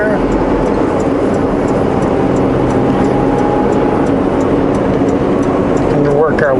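A vehicle engine held in 13th gear while descending Sunday Summit east of Manning Park, a loud, steady low drone with road rumble throughout.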